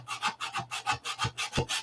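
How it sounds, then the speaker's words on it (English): Rhythmic back-and-forth rasping of sandpaper feathering a wooden edge, about eight quick strokes close up, with no talking. "taking this sandpaper and feathering that edge in up and down"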